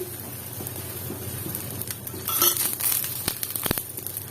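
Ada batter crisping in oil in a pan after being flipped, with a fine steady sizzle and crackle, a brief louder burst midway and a couple of sharp taps, close by with no talking.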